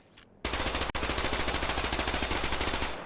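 Tacoma submachine gun firing in the shooter game Off the Grid, a loud, close, sustained full-auto burst of rapid even shots with a brief gap near the start, no talking.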